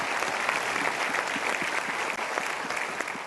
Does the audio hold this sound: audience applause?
yes